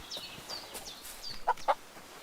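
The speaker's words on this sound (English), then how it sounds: "Chicken." A chicken clucks in the medieval world of the video game Kingdom Come Deliverance 2, a couple of short clucks standing out over soft background ambience and faint bird chirps.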